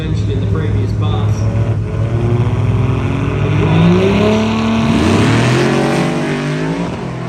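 A Mercedes OM606 diesel car accelerates hard down a drag strip, a loud engine note climbing steadily in pitch through the run with a gear shift near the end and people talking over it.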